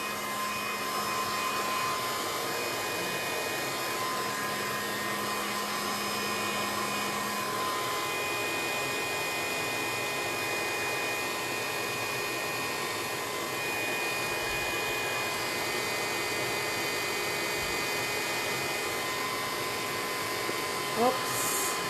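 A dryer blows to dry gesso on a canvas, a loud, steady whirring drone that holds unchanged for over twenty seconds, with possible speech beneath it.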